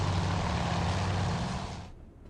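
A loud, steady propeller-engine drone from torpedo bomber aircraft in the naval game Task Force Admiral holds close and heavy, then thins and drops away sharply near the end as the planes pass.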